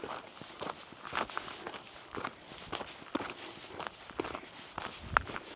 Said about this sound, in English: Sound like I'm marching, don't I? Got a bit of a pace up.